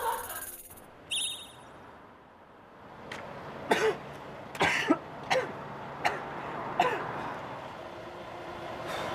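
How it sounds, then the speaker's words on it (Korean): A person coughs repeatedly in short, irregular bursts over quiet room tone, the harsh hacks spaced a second or so apart and fairly close. "기침이 멈추질 않네"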